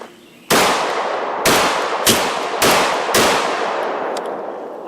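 A Turkish Sovran shotgun fires during an outdoor field test with five loud, sharp blasts about a second apart, each with a long echoing tail.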